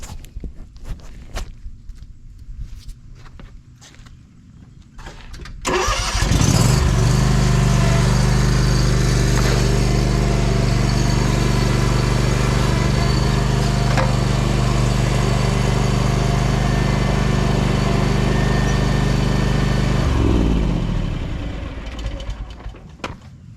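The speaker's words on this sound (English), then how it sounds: "let me move the mower over to the other side" After some footsteps and shuffling, a lawn mower engine fitted with Fisher Barton Laseredge blades starts and runs steadily and loudly for about fourteen seconds as it is moved, then winds down to quiet.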